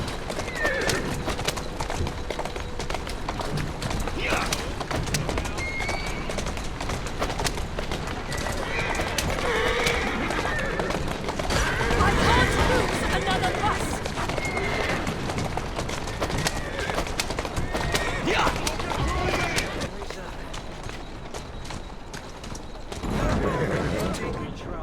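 Horse whinnies over steady rhythmic hoofbeats of a gallop in a video game, with a voice talking intermittently and a busy background throughout.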